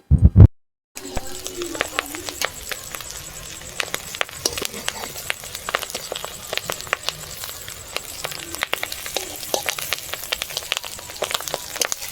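Paneer with potatoes fries in a pan as a steady crackle and sizzle, with irregular small pops throughout, fairly close and moderately loud, after a brief sharp clatter at the start.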